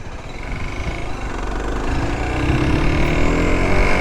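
An enduro motorcycle fitted with a sports bike engine rides up and down a curb, its engine droning steadily and rising slightly in pitch, heard close and alone without voices.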